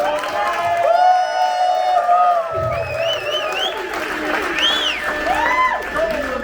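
Crowd applause and cheering at a traditional wedding in Boston, with continuous clapping, whoops and raised voices, and people calling out and talking throughout.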